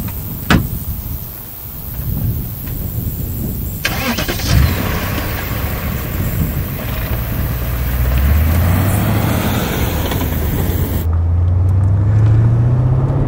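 A 2001 BMW Z8 roadster in Topaz Blue drives with its engine humming steadily and close, the tone rising through the gears as it accelerates, with wind noise and no talk.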